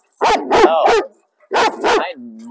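A reactive dog barks close and loud, three quick barks, a short pause, then two more ending in a whine.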